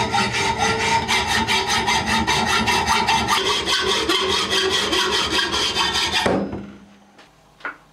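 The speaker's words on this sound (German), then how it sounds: "Ich säge es jetzt mit ein paar Millimeter mehr, anders geht es nicht per Hand." A hand saw cuts through wood for a corner bench seat repair, quick regular back-and-forth strokes close by for about six seconds, then the sawing stops and a single small knock follows in near silence.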